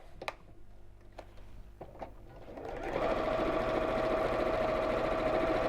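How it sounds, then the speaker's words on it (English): A sewing machine stitches down the sides of a child's drawstring backpack flap. A few light clicks come first, then the motor starts and runs loud and steady at close range until the end. "I'm just going to sew through these sides and leave the whole of the top section open"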